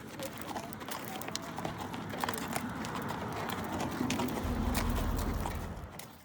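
Horse hooves clip-clopping steadily on a trail ride, a continuous rhythmic stepping close by with outdoor background and some bird sound.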